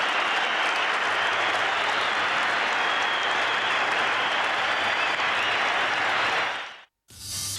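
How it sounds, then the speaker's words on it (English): A packed football stadium crowd at a 1991 AFL match between Adelaide and Hawthorn roars and applauds at the half-time siren, a thick sustained wall of cheering that cuts off abruptly near the end. "It's half-time, but let's just listen to this crowd."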